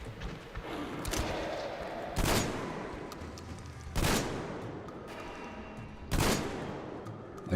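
Three loud gunshots fired at roughly two-second intervals in the video game Metro Exodus, played on a PlayStation controller, each sharp crack ringing out over a steady layer of background game noise.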